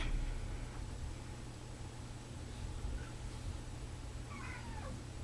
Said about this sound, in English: Oh dear, my cat is crying.